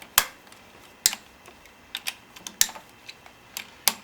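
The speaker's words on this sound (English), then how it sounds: "Now we're going to remove the clutch, which is simply a matter of cracking these bolts loose" Motorcycle clutch bolts being cracked loose with a hand tool, producing sharp, close metallic clicks and snaps spaced irregularly across a few seconds, with quieter ticks between the louder ones.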